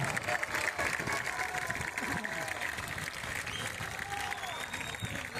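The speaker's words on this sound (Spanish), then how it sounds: "Fuerte el aplauso para recibir a las autoridades en este gran encuentro." Crowd applause at a public event held at San Martín, welcoming officials; a busy, continuous clatter of clapping mixed with crowd noise and voices throughout, moderately loud and fairly distant.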